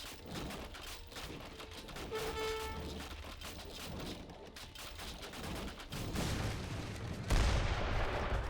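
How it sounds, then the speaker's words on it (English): Mortar fire bombarding a town center in Age of Empires 3, with a dense, continuous rumble of explosions and gunfire and a heavier blast near the end; no talking. "Mortars hitting the town center now."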